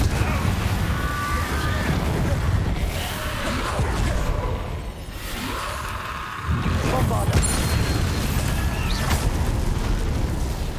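Fiery Confringo spell blasts from Hogwarts Legacy, booming bursts that come repeatedly and close, with a short lull midway, mixed with spoken voice and game background.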